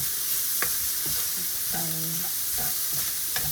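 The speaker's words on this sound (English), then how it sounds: "As you can hear, it's all proper sizzling" Steady, dense sizzling of lamb taco filling frying in a hot pan fills the clip, with occasional clinks and scrapes of stirring.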